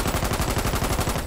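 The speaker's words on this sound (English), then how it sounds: "Shoot him, Ted, please!" Rapid automatic gunfire from the war game Foxhole, a dense burst of evenly spaced shots lasting just over a second, loud and close.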